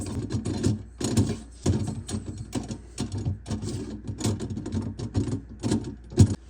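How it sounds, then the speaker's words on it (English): Screws loosened on a garbage disposal mounting under a sink: a busy stretch of close clicks, ratcheting turns and small metallic knocks in irregular bursts, with no talk. "there's 3 screws. We're going to loosen these up"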